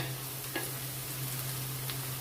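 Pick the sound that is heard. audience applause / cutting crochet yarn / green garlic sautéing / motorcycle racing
green garlic sautéing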